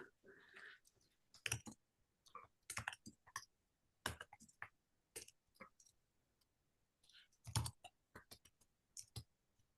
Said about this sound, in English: Feel free to take yourself off mute while I'm typing in here.